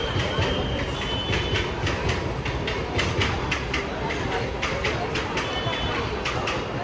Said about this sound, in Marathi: And train is arrived.